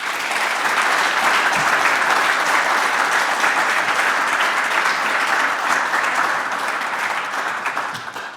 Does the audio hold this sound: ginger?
no